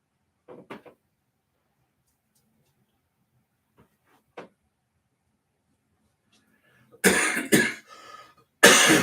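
A few faint, short coughs sound at intervals, followed by two louder, harsher bursts near the end.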